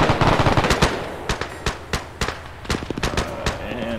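Rapid machine-gun bursts and scattered rifle shots from a WWII battle video game, loud and close, the dense crackling fire continuing throughout with only brief gaps.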